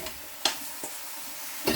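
Chicken gizzards frying in a pot, a soft background sizzle broken by a few sharp, spaced scrapes of a spoon stirring against the metal.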